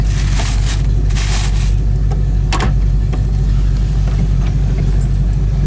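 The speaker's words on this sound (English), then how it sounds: "Dual exhaust looks nice with those dual pipes with the dual tips. Sounds good too." A 1972 Ford Mustang Convertible engine rumbles steadily at low pitch through dual exhaust, a deep continuous drone with a few short clicks and bumps over it.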